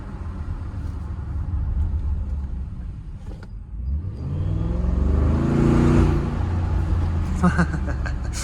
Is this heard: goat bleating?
no